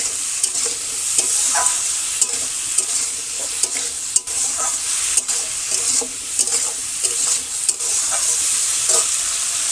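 Stirring fish curry ingredients, seasoned with salt, turmeric and garlic, in a pan in a village kitchen: a steady sizzle with repeated scraping strokes of a spoon, close and continuous, no voices.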